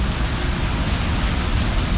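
A fountain waterfall pouring into a basin in central Brussels, a steady broadband rush of falling water, loud and unbroken with no other sounds.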